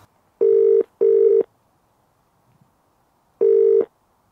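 A telephone ringback tone on a call to a house number, three steady beeps, two close together and then a gap before the third, clear and loud with no talk.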